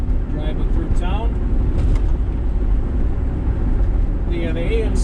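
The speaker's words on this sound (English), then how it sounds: "Driving through town." Car driving through town, steady road and engine rumble from inside the vehicle with a few faint squeaks and rattles on top.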